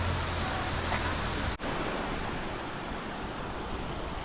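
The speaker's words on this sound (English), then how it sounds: "this is the water coming out of the mountains" Water pouring out of the mountains at a modest waterfall in Utah, a steady broadband rush that stays constant and fairly loud throughout, with a brief dip near the middle.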